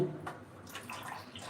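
A short burst of water is poured into a curry cooking in a kitchen, heard as a faint splash and trickle with no talk over it.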